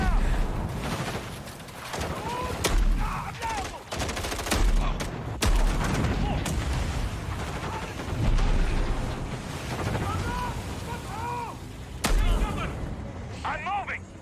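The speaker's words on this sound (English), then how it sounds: "That shotgun sounds amazing." A shotgun in a game trailer fires repeatedly in loud booming blasts among wind and water-like ambience and other combat effects, while people talk over the action.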